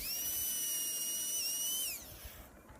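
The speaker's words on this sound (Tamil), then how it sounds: "ஃபுல்லாகவே கிரைண்டிங் பண்ணி விட்ருங்க." A power grinder sands down a cricket bat during a full refurbishing job, giving a steady high-pitched whine that holds for about two seconds, then drops in pitch and fades out into low hiss.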